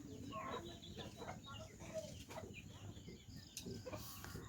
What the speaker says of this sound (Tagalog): Way siguro tanan manok manulod na dire.